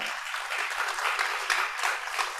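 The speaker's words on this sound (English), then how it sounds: "give the applause for the panelists and for you all" Audience applauds panelists at the close of a public-private partnership housing showcase event in Indonesia; steady, even clapping fills the clip, fairly faint and distant, with no voices on top.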